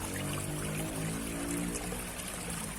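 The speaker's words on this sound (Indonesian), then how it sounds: "sewaktu mendengarkan suara gemericik air" A modest stream of water trickles and babbles steadily outdoors, a continuous close wash of flowing water with no voices.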